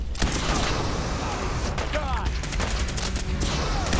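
Gunfire in Fallout 4, a steady barrage of loud rapid shots from close by, with mechanical clatter in the middle and a dense burst of rapid reports near the end.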